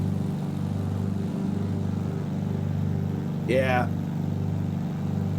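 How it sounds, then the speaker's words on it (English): A 300-horsepower radial engine drones steadily in a P-52 over Arizona in Microsoft Flight Simulator, a constant low hum throughout with a brief rising whine near the end and a short spoken word over it. "just the sound of that 300 horse radial engine"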